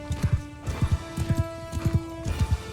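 Rhythmic hoofbeats of galloping horses in the video game Mount & Blade II: Bannerlord pound in repeated clusters, clear and close, with a faint synthetic tone underneath.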